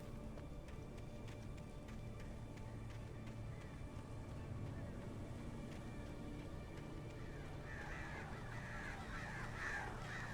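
Crows cawing in the horror video game Alan Wake, a few faint caws over a steady low ambient drone, with harsher calls gathering near the end.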